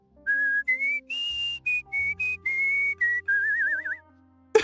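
A game character in Genshin Impact whistles a lilting tune, a string of clear held notes ending in a wavering trill, over soft background music.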